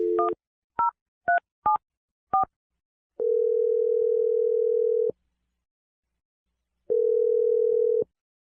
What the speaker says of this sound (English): We're going to dial Darren's phone number right now